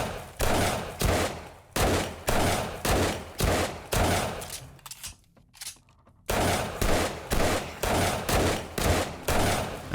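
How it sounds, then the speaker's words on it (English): A bear is shot in the video game 7 Days to Die, with loud, close gunshots fired in a steady rhythm of heavy reports, a short lull in the middle, then another regular run of shots. "we're gonna shoot the bear"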